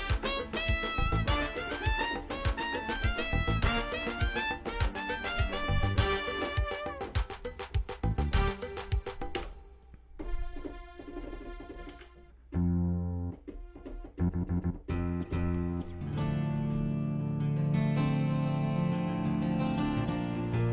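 A Korg i3 keyboard plays a busy run of bright chords and notes under heavy reverb, then breaks into sustained, spacious chords that swell into a thick, loud wash with long tails.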